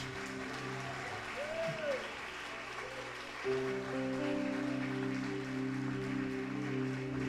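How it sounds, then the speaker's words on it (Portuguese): A youth congress congregation at a church service claps hands loudly together, a faint, continuous patter of clapping under organ-like sustained keyboard tones and some voices. "Se você tem esse mesmo temor, irmãos, bate palmas bem forte para Ele."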